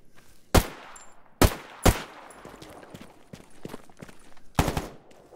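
Gunfire in the video game STALKER: several sharp, loud shots in separated bursts, some doubled, with quieter clicks and movement between them.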